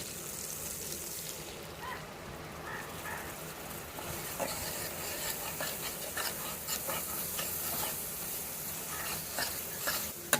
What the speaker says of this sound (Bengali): এবারে আমরা এর মধ্যে দিয়ে দিচ্ছি আগের থেকে একটা মশলার পেস্ট তৈরি করে রেখেছিলাম